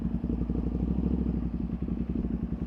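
Tuned Ducati Panigale V2 motorcycle engine on a street ride, a steady close rumble with rapid clattering pulses as light throttle is applied, running continuously with no talk.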